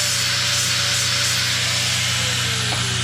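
A grinder works steadily on a metal part during assembly of a 75 lb to 250 lb trolley, giving a loud, close, continuous abrasive whine with a sustained tone and no breaks.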